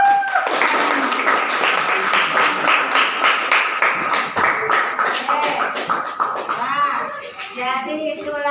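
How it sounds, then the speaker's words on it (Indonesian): A group of students clapping in a classroom, a loud rhythmic patter of many hands mixed with children's voices and chatter that continues as the applause thins out. "Tepuk tangan."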